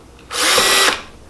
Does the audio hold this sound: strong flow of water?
no